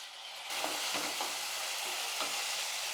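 Onion and tomato sautéing in a pressure cooker pan for vegetable kurma, a steady close sizzle with a few soft stirring scrapes throughout.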